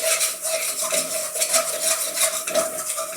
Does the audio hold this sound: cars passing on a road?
no